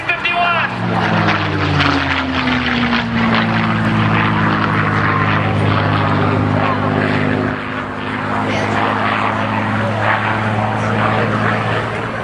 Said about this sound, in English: Brings the P-51 right down onto the runway environment. 380 miles an hour, less than 20 feet off the ground.